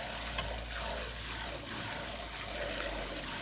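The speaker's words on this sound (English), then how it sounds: "So you want to take this and give it a really good wash and rinse and repeat." Dal lentils being washed and rinsed in water, a continuous close swishing and trickling of liquid with no voices.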